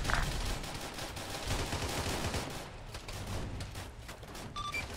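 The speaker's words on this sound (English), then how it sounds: "You guys are tanking minigun shots" Rapid minigun fire rattles in the Arma 3 OPTRE Halo mod, a dense continuous stream of shots with heavy booming impacts, loud and close throughout with no pauses.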